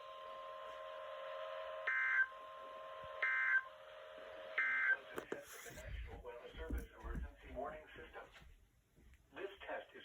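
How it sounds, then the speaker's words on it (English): NOAA weather radio weekly warning alarm test, with a steady tone interrupted by three short, loud high beeps in an even rhythm, followed by a radio announcer speaking. "This concludes the weekly test of the warning alarm system."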